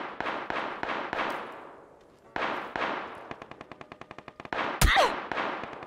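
Bursts of automatic gunfire in PUBG on Xbox, rapid loud volleys with short gaps followed by a fast run of single shots and a sharp closer blast.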